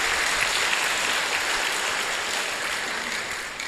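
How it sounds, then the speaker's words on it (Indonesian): Worshippers at a pondok pesantren religious gathering break into applause, a thick, even wash of clapping from a large crowd that stays strong throughout and fades slightly near the end. "tepuk tangan aplaus untuk pondok pesantren ini"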